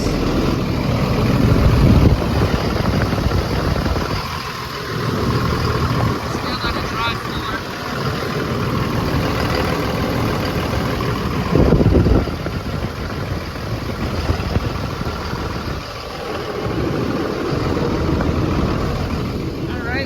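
A car engine idles steadily after running for a few minutes while the cooling system is checked for coolant loss, producing a continuous, fairly loud low rumble throughout with no breaks.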